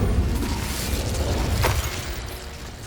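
A fire spell is cast in the Hogwarts Legacy video game, making a loud whooshing burst of flame that crackles and rumbles, with a sharp flare in the middle before it slowly fades.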